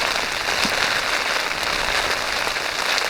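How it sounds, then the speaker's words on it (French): Steady rain patters on surfaces around hikers crossing Iceland on foot, a dense, even hiss with no voices. "on va marcher sous la pluie"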